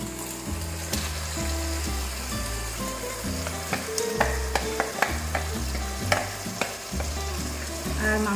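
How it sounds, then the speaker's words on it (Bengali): Marinated mutton for biryani hitting hot spiced oil and sizzling loudly and steadily, with repeated scraping and clanking as a spoon stirs it around the pot, close and without talk. "এবার আমরা ম্যারিনেট করা মাংসগুলো এর মধ্যে দিয়ে দিচ্ছি।"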